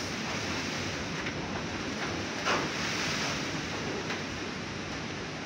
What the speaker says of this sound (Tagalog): Ang lakas po ng hangin sa labas mga kapiks.